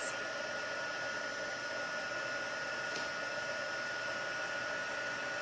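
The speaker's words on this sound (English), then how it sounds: "Now I've got my heat gun tool. It's going to sound like a hairdryer" A heat gun blows hot air with a constant, steady whirring hiss, like a hair dryer running continuously at an even level, while heat-embossing a card.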